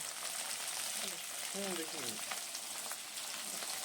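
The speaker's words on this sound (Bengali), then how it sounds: "এবার আলুটা লাল লাল করে ভেজে নেব" Potatoes frying in a pan with salt and turmeric for a vegetarian banana-flower dish, a quiet continuous sizzle close by, with a brief murmur of a voice partway through.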